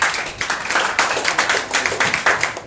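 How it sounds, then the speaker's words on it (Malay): Audience at a business seminar clapping for the day's speaker, an uneven, pulsing round of applause from a modest crowd, close and fairly loud. "satu lagi tepukan untuk speaker kita hari ni"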